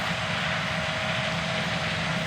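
John Deere S670 combines harvesting corn on a dairy farm field give off a steady, loud engine drone with a constant hum running under it, unbroken throughout.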